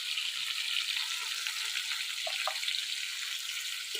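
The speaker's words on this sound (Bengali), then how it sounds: "এদিকে আলুটা ভাজা হোক আস্তে আস্তে" Potatoes fry slowly in oil with a soft, steady hiss and a few faint pops, low and even throughout.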